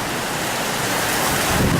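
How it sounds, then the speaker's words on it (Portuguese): Strong wind and heavy rain roar during a thunderstorm in Blumenau, a dense, loud, continuous rush of noise with gusts battering the microphone. "é muito vento. Muita água"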